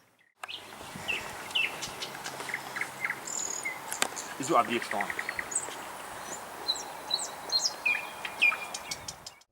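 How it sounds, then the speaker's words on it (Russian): Birdsong at dawn around a mosque: scattered chirps and tweets over a steady insect and cricket chorus, fairly faint and continuous, with a brief burst of louder calls midway. "Особенно его впечатлило пение птиц на рассвете."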